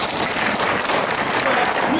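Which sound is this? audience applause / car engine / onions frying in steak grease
audience applause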